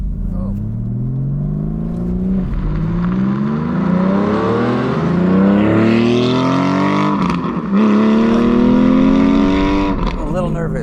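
A Porsche 718 Spyder with a naturally aspirated 4.5-litre engine, 565 hp, revs hard from inside the car, climbing quickly through several rising sweeps with short breaks between gears; voices can be heard over the engine.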